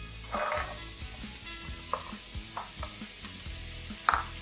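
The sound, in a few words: onions and chopped potatoes sautéing in a pan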